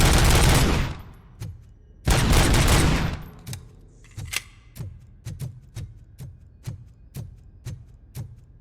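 Rapid automatic fire in Robocop: Rogue City opens with two heavy roaring bursts, then settles into a rhythmic string of evenly spaced crisp shots, each ringing out alone.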